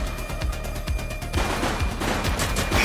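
Game gunfire in the police game The Precinct, a steady run of close shots with thumping low impacts and a noisy burst partway through, continuing without pause and no talk.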